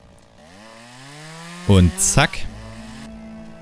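A chainsaw in the video game Lumberjack's Dynasty revs up and bites into wood in two loud bursts, an engine drone running before and after, with someone speaking briefly over it.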